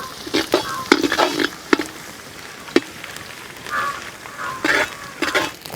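Chopped garlic and dried red chilies frying in hot oil, with intermittent bursts of sizzling and spattering and occasional stirring scrapes, close and moderately loud, with no talking.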